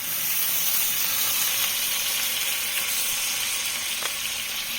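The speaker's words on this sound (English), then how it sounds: "some butter, a cube of butter, some olive oil, and shrimp, and as much pepper as you want, and just kind of like saute them" Shrimp sautéing in a pan of butter and olive oil with pepper, a loud bright continuous sizzle close up, steady hiss with occasional small pops and no voices.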